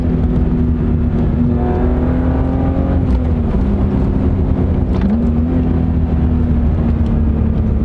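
A BMW E36 M3 engine revs steadily while driving, its droning tone rising and dipping with throttle changes over constant road and wind noise, loud and close with no talking.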